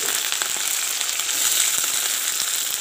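Fish sizzles and spits steadily in a hot frying pan, a close, even crackle with small pops and no talking.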